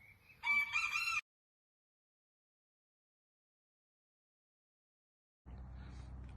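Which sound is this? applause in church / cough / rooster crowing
rooster crowing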